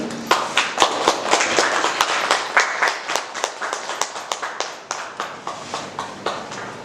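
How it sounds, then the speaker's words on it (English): A small seminar audience claps to welcome a speaker onto the dais at a talk on solar activity and climate. Distinct individual claps come close and fairly loud in an uneven rhythm that gradually thins. "let us welcome our speaker onto the dais with a round of applause"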